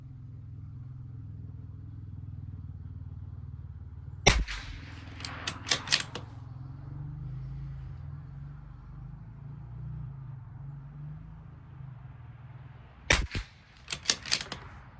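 Long-range rifle fire from a Bergara or Tikka T1x: one sharp, loud shot followed by a quick cluster of four more cracks, then after a quiet pause another loud shot and a second burst of rapid cracks, over a steady low outdoor rumble.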